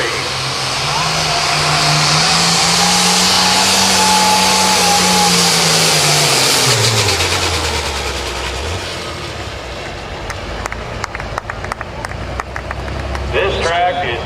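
A pro stock tractor in the 8500 Limited class pulls at a Mound City, Missouri event, its engine wailing loud and rising in a long sweep before dropping off, with crowd and track noise toward the end.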